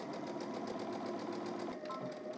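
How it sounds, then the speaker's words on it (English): A sewing machine topstitches a trouser hem on baggy pants, its fast steady needle chatter running continuously and close with a brief pause near the end. "I'm going to go ahead and stitch this in place"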